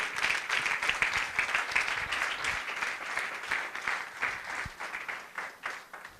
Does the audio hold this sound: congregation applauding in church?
yes